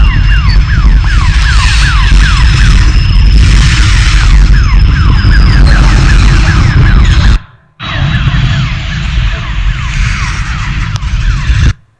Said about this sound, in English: siren sound going on